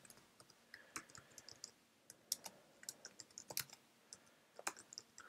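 Quiet clicking of a computer keyboard as a server name is typed, a quick irregular run of soft keystrokes with no talking.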